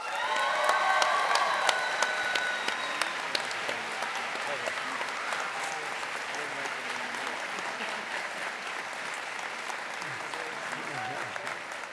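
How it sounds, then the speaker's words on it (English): Sustained applause with cheers and whoops from a crowd at a culinary institute graduation ceremony, loud and dense for the full twelve seconds, with shouts and high whistles standing out in the first few seconds. "Ladies and gentlemen, please join me in a round of applause"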